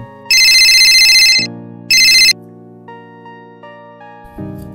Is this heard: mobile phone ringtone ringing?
yes